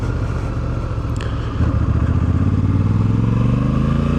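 A Honda 1100 motorcycle on its stock exhaust revs up close, its deep engine note climbing steadily in pitch as it pulls hard, loud and alone.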